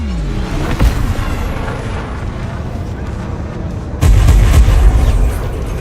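Long-range Concord weapons firing in a video game: dense, sustained booming barrage with a sharp blast near one second and a louder, heavier burst of explosions from about four seconds to the end.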